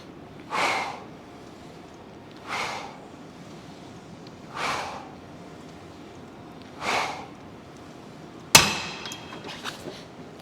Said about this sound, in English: So that's the leg press.